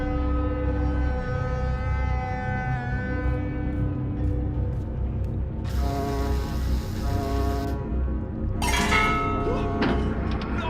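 A bell rings on a ferry in the video game Dreamfall Chapters, loud and sustained with layered metallic clanks and mechanical ratcheting, and bright bursts of ringing flaring up partway through.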